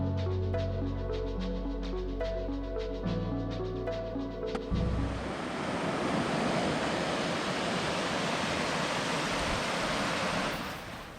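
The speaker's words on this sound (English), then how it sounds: "That is the South Fork of the Teton Creek that follows along the Alaska Basin Trail." South Fork of Teton Creek running beside the Alaska Basin Trail in the Tetons, a steady broad rush of flowing creek water that swells in after a few seconds and holds loud and close with no talking.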